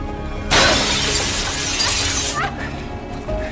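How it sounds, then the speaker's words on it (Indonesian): A glass tube is smashed in the 2009 film Splice: one loud, sudden shatter bursts out, then breaking glass crackles and fades with scattered tinkling debris, with no talking. "Clive langsung mengeluarkan makhluk itu dengan memecahkan kaca tabungnya"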